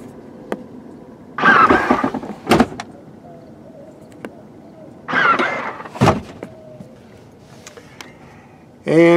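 Rear seats of a 2017 Volvo V90 Cross Country T6 AWD wagon power-folding down, two separate whirring motor runs each ending in a firm thump, with a quiet cabin between them.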